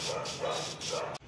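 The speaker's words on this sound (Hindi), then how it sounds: "जब वीडियो शूट कर रहे हैं बैठो रात को तब ये कुत्ते भौंकते हैं" Dogs barking at night give repeated, closely spaced bow-wow barks, faint and somewhat distant against a steady noisy background, with the barking ending abruptly.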